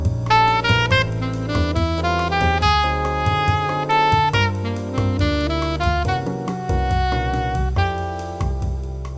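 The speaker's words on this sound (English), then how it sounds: "those two dominant chords are not only dominant 7 with the sharp 11" Rich piano chords, dominant sevenths with a sharp eleven and flat nine, are played in a flowing jazz progression with bass notes below, clear and close, with no voices.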